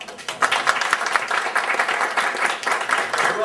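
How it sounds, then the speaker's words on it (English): Dense applause from an audience at a university research workshop, a steady wash of many hands clapping at close range for the full stretch without letting up. "So let's all give him a round of applause."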